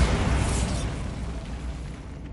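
Bombarda spell explosion in Hogwarts Legacy, a loud, deep booming blast that hits at once and rolls off over a couple of seconds.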